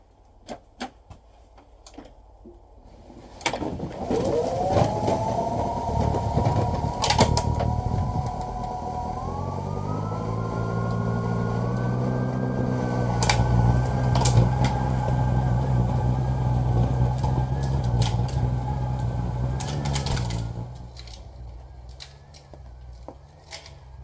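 A Greenworks 80V two-stage battery snow blower starts up after a few clicks and runs as a steady whirring motor hum with a rising whine for about seventeen seconds, then winds down, no talking.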